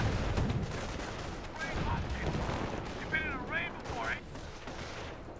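Gunfire and artillery in the Company of Heroes 1 strategy game, Elite Mod, heard as dense, loud rumbling battle noise with repeated shots and blasts, while in-game unit voices call out over the fighting.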